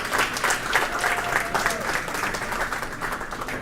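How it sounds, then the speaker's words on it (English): An audience applauds at a live product design event, a dense, steady wash of many hands clapping together, loud and close, sustained for a few seconds. "Huge round of applause, guys."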